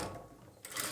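A sewing machine stitches a plain blouse, a brief quiet mechanical whir and clatter that picks up slightly toward the end of the second.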